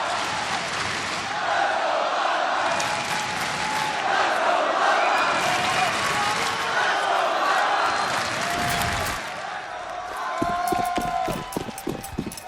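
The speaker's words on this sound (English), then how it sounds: "Listen to this crowd!" A large arena crowd at a Counter-Strike major final roars and cheers loudly and continuously, swelling before dropping off near the end into scattered sharp noises.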